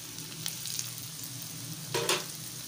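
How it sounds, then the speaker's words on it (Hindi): Green chillies fry in hot oil in a pan, a close, continuous crackling sizzle with a brief louder burst of spattering near the end. "अब हमने इसमें हरी मिर्चें फ्राई करनी है थोड़ी देर।"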